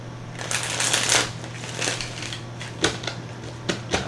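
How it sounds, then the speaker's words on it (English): Tarot cards shuffled by hand in a fortune-reading session, a close riffling and rustling that swells for about a second, then settles into softer shuffles with a few sharp snaps toward the end, alone under a low steady hum. "Give me one more shuffle for Pisces."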